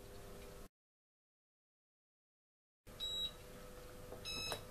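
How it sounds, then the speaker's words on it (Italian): A Minc foil machine signals it has heated up and is ready with short, high electronic beeps after a pause of silence, set against a faint hum. "aspettiamo che diventi verde e faccia il beep"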